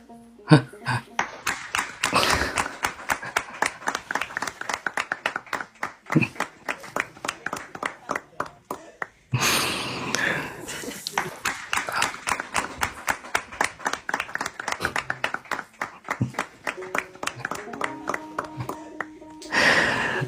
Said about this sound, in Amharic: ከዛ አጠገቡ ያሉ ሰዎች ያጨበጭባሉ፣ እሱም ብድግ ብሎ ማጨብጨብ ጀመረ።